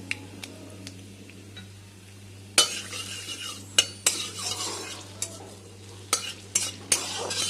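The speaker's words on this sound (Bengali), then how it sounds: "এবারে কড়াইতে আরও কিছুটা সর্ষের তেল দিয়ে দেবো। দিয়ে দেবো সামান্য কালো জিরে আর একটা শুকনো লঙ্কা।" Black cumin seeds and a dried red chilli fry in mustard oil in a wok, giving a low sizzle broken by sharp clinks and scrapes of stirring.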